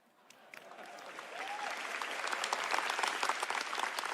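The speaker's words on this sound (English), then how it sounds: "And a round of applause for our pre-game show superstars, ladies and gentlemen." A large crowd at a GTC Taipei tech keynote breaks into applause that swells from light clapping to a dense, sustained roar, with a brief whoop.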